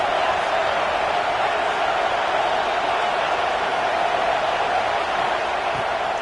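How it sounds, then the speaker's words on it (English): Dense, steady stadium crowd roar in a Penn State versus Alabama college football video game, a loud continuous wash of voices with no clear peaks, as if heard from the field. "This crowd trying to make life miserable for this offense."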